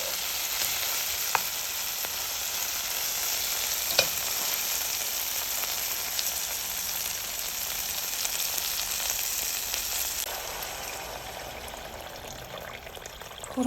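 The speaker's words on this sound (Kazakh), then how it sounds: "Барлығын жақсылап қуырып аламыз" Noodles and herbs fry in a pan at home, a steady close sizzle running throughout with a few brief clinks of stirring.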